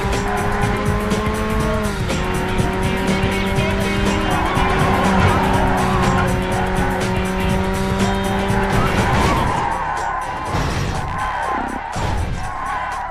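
Racing engines whine at a steady high pitch in the PS2 game Burnout, then shift and break off into squealing tires, skids and a crash amid traffic, loud and continuous.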